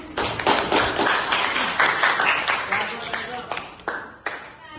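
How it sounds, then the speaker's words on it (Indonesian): A group claps in a brief round of applause, irregular and close, with voices mixed in among the claps. "Ada tepuk tangan untuk temannya."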